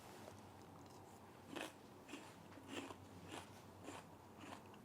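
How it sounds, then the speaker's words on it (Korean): Crisp crunching of a spoonful of raw cabbage salad with tomato and apple being chewed, five or six moderate bites in a steady rhythm over a faint background hum, no talking. "이 양배추가 굉장히 막 아삭아삭거리고 식감이 정말 좋고요"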